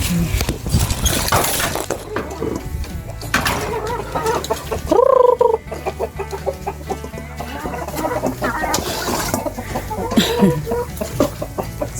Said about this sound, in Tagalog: tara, punta tayo dun sa mga manok at ipapakain natin to.